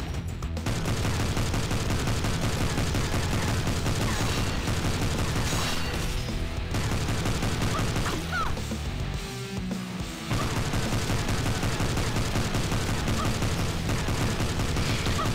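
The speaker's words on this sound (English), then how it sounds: "I shoot and move non-stop to be as far as possible and to avoid the enemy's attack." Gunfire in the indie video game Silver Bullet: loud, nearly continuous shots and bursts over a steady game soundtrack, with only a brief dip in the middle.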